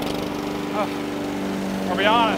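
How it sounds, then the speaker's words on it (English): A push lawn mower runs steadily in a large 30-acre field, its engine drone continuous and fairly close throughout, while a person talks over it. "it feels a little ridiculous mowing a 30-acre field with a push mower"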